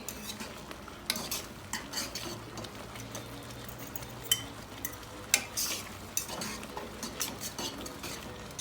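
A utensil scrapes and clinks repeatedly against a pan while stewed eggplant with egg is stirred, with gentle sizzling underneath and a few sharper metallic taps, all fairly quiet.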